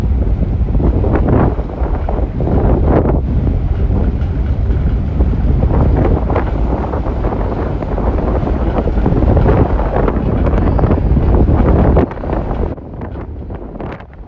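Wind roars steadily across the deck of a ferry sailing from Mallorca to Barcelona, with a loud, buffeting rumble that eases off near the end. No one speaks.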